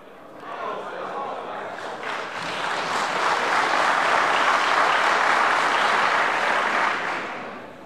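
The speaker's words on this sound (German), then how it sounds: "Ich billige Ihren Beifall an der Stelle." Sustained applause from members in the German Bundestag, swelling from a moderate start to a dense, loud peak around the middle before tapering off, with no speech over it.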